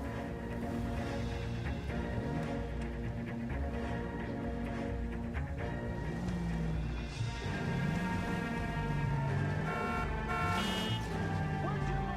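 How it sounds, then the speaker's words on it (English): A police car siren wails continuously in the video game L.A. Noire, its rising and falling tone sustained over steady engine and road noise for the whole stretch. "Hit the siren."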